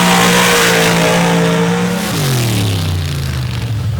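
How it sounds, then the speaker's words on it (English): Two big cubic inch drag racing cars, one running nitrous, roar loudly at a night drag event, the engine note holding steady then dropping in pitch as they tear past. "big cubic inch machines, some with nitrous, some without."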